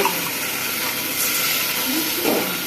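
Blended ginger, onion and garlic spice paste hitting browned onions in a pan for pigeon curry, a steady loud sizzle and hiss throughout.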